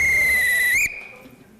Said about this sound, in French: il va siffler, mesdames et messieurs